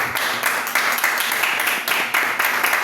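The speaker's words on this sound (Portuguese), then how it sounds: "Aplauda a pessoa da gente." A church congregation applauding at a Sunday service, dense sustained clapping from many hands with a steady broadband wash and no voices standing out.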